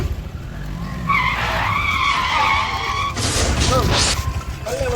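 An auto rickshaw with failed brakes skids through a narrow lane, tires squealing in drawn-out screeches alongside engine noise, with people shouting over it.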